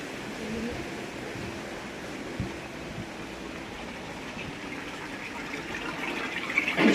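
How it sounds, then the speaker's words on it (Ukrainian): Small streams of water run through a city park, a steady soft gurgling wash that continues evenly throughout and grows slightly louder toward the end. "ось струмочки"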